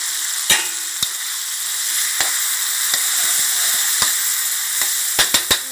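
Pork belly stir-frying with red curry paste in a hot pan, a steady loud sizzle with several sharp pops and spatters scattered through it, no talking.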